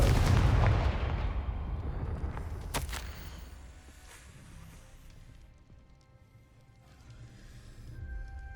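Confringo blasting spell from Hogwarts Legacy: a heavy, booming explosion at the start with a sharp crack shortly after, then a low rumbling tail fading out under faint game ambience.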